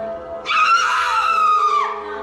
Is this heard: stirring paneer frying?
no